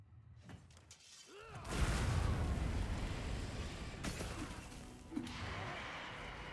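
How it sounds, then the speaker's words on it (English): Explosion in Monster Hunter Wilds: a sudden shattering, crashing blast that gives way to a long, loud rumbling roar, with a smaller impact near the end and brief game sounds before it. "How far did you get yeeted by that explosion?"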